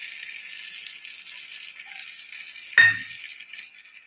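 Onion and tomato sizzle steadily in a pan with spices for a jackfruit and prawn dish, a soft even hiss broken by one sharp utensil clink near the end.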